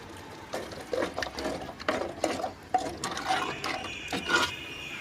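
Tamarind water boiling in a pot of fish curry, with irregular bubbling pops and crackles at close range and no talking.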